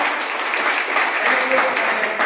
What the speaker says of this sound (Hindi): दो तालियां